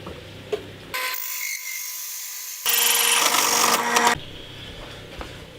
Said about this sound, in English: I'm now just going to drill out the first insert plate.